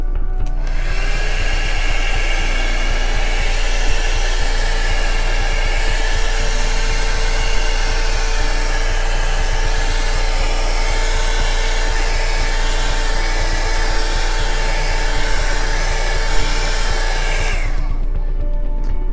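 A heat gun blows steadily and loudly across an acrylic puddle pour of red, blue and white paint made without silicone, a constant close airy roar with a motor whine that runs almost the full length and then cuts off.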